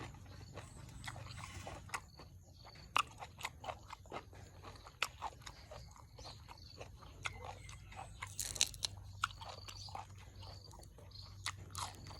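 Close, wet chewing and crunching of a big mouthful of Lao-style blood larb, minced meat salad, with irregular sharp bites and smacks over a low steady hum, no talking.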